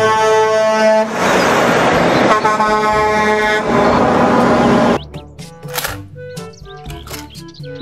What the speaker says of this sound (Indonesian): Mobil truk kontainer Max Stride.